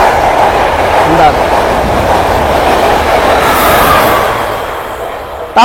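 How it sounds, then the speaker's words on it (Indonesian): A train passes close by with a loud, steady rolling roar that holds for several seconds and eases slightly near the end, with no talking over it. "Tapi mohon maaf, ada kereta."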